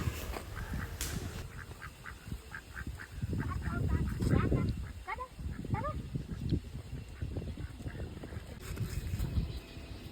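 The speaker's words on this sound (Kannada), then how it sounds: "ಅವು ಫ್ರೆಂಡ್ಲಿಯಾಗಿ ಬಂದು ಕೈಯಿಂದನೇ ತಿಂತಾಯಿದ್ವು." Ducks being fed puffed rice by hand at a pond on a coffee plantation in Sakleshpura, quacking repeatedly in busy overlapping bursts at moderate distance, with a dog barking and goose-like honks mixed in.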